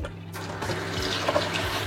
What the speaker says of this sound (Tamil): இதை நல்லா தேய்ச்சி கழுவணும். உமிகள் தவிடுகள் எல்லாம் போகிறதுக்காக ஒரு 2-3 தண்ணியில் கழுவணும்.